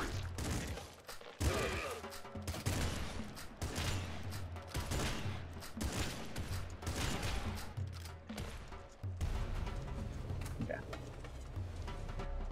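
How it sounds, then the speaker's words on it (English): Shotgun blasts in the Nuclear Throne Ultra Mod video game fire in rapid repeated bursts amid clattering game effects and music, dense and loud throughout, with someone talking now and then. "Some of these shotgun shots aren't hitting and it's really pissing me off."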